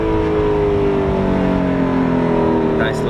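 An Audi R8 powers through a corner on a ride along, its engine droning loud and steady from inside the car with rising pitch as it accelerates, with a brief faint sound near the end.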